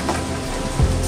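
Mixer grinder grinding fresh coconut with roasted cumin and cloves, a dense continuous whirring roar heard up close, with a heavier low thump near the end.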